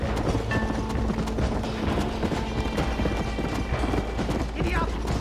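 Horse hooves clip-clop at a steady gallop in the Red Dead Redemption video game, a dense, close rhythm that runs the whole time with a brief whinny-like sound partway through.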